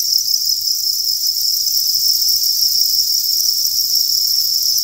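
Farmed crickets chirp in a dense chorus of steady, high-pitched trilling that continues without pause, with a faint low rumble underneath.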